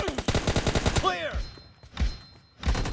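Rapid gunfire in a PUBG Mobile match, a fast run of loud sharp shots in the first second followed by scattered bursts, with game voice callouts and effects heard between them.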